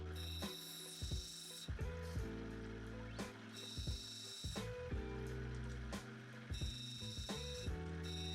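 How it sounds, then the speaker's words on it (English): A cutting machine grinds an opal stone, working around its edge: a steady motor drone with repeated rough scraping bursts and clicks as the stone is pressed on and lifted, close and fairly loud, no talking. "So it's back to the machine and back to grinding. Working around the edge of the stone to expose the colour."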